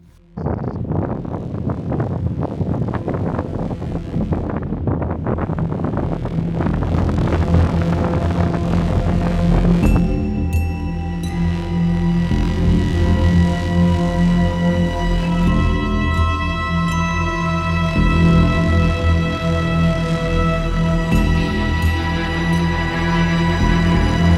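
Strong wind roars and buffets around a Dacia driving through Iceland, a dense, steady rumble with a low vehicle drone growing more tonal partway through, and no speech.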